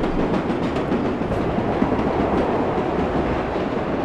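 Rhythmic clickety-clack and steady rumble of a subway train running through a narrow tunnel in World of Subways Vol. 4, continuous and loud, heard from inside the train.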